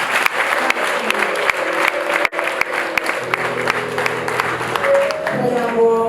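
Applause and crowd noise at a wedding celebration, a continuous mass of clapping with a few sharp claps standing out, mixed with sustained musical tones and some voices.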